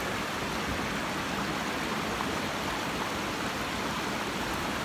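Snowmelt water pouring out at the Mount Shasta headwaters in California, a dense, constant hiss and roar close by, unbroken throughout with no voices.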